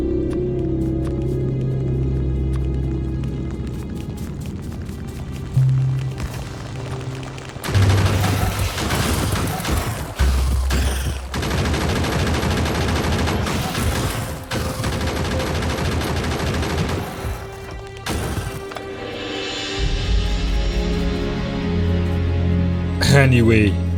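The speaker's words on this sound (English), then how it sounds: "let's assault the nest with one single broken gun turret" A single damaged gun turret in Factorio fires on a biter nest in rapid, repeated machine-gun bursts with occasional booms. The shooting is loud and dense, with short gaps between volleys, and a voice may be heard over it.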